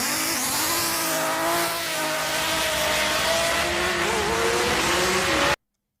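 A 12-cylinder car engine revs hard and buzzy, loud and close, with rising and falling engine pitch sustained for about five seconds before cutting off abruptly, with no talk over it.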